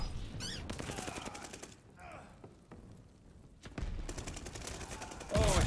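Gunfire in Call of Duty Vanguard, with rapid bursts of automatic shots in the opening second and again from about four seconds on, broken by a quieter stretch of mechanical clatter and thuds, with a loud impact near the end.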